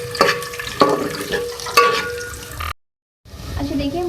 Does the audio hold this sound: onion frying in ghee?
yes